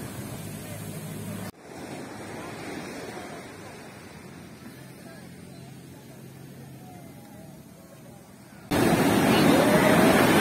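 Strong ocean waves wash onto a beach at Anawangin, Zambales, as a continuous surf roar with wind buffeting the microphone, loudest at the start and end, and voices faintly underneath.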